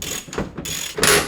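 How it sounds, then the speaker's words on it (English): Ratchet driving in a fuel tank strap bolt on a BMW E34, a few quick, close clicking bursts of the pawl as the handle swings back and forth. "I'm going to go ahead and get this bolt started. Now with it started, I can go ahead and drive it in the rest of the way."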